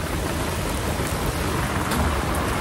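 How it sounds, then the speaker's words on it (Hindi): Very heavy monsoon rain pours down outdoors, a thick, unbroken hiss of drops on surfaces that holds steady throughout, with no voices over it. "बहुत ज़्यादा बारिश हो रही है"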